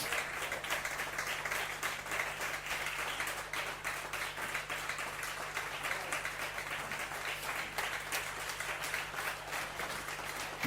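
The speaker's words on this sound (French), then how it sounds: "Acclame Jésus-Christ de Nazareth" A church congregation applauding Jesus during a worship service: steady, dense clapping from many hands that carries on without a break, with a low electrical hum underneath.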